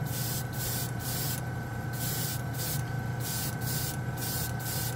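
An airbrush air compressor runs with a steady hum and hiss, while bursts of spray air cut in and out in a rapid, regular on-off pattern nearby.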